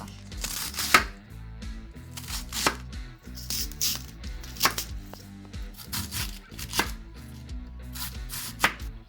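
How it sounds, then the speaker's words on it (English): A knife chops cabbage on a cutting board while sauerkraut is being made. The blade lands in quick, distinct strikes at an uneven rhythm, close to the microphone and clearly audible on its own. "I'm going to chop this more fine anyways"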